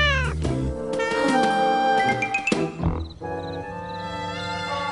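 A cartoon cat lets out a drawn-out, wavering meow, loud and close, then a shorter cry, with no talking over it.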